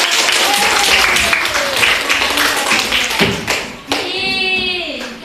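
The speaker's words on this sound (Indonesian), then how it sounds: "Tepuk tangan dulu Pak." A school class claps hands together in a burst of rapid, near clapping, with taps and thuds mixed in. Voices rise over the end of it.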